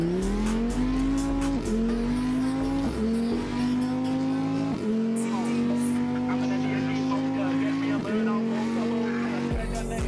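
Race cars in an Assetto Corsa street race in the UK with police, a loud sustained engine drone rising through repeated gear changes, with tire noise and voices in the background.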